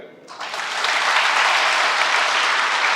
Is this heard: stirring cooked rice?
no